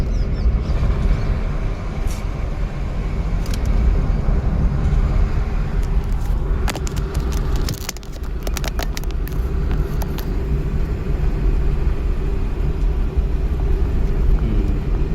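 A car drives along a road during a driving lesson: steady low engine and tyre rumble throughout, with a brief dip and some clicks and rattles midway, and no speech.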